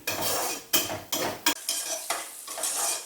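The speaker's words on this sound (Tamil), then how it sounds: "இப்போ நாம கட் பண்ணி வச்சிருக்கிற இந்த வெங்காயத்தை இதுல போட்டு நல்லா வதக்கணும்" Chopped onions sauté in a pan for coconut milk biryani, with a steady sizzle broken by repeated close scraping stir strokes of a spoon against the metal.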